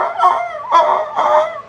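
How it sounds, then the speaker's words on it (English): Bird call made of three short, tonal, slightly rasping calls in an even rhythm, close and loud, with no talking. "that bird call."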